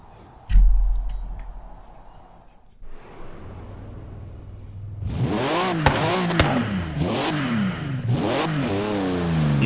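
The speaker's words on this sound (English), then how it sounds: "Get a good sound of our old classic engine" A classic car engine in Forza Horizon 3 starts, idles, then revs repeatedly, pitch climbing and falling in several surging waves, close and loud.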